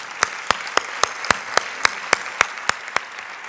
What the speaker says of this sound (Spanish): un fuerte aplauso, por favor, para Claudia Giraldo.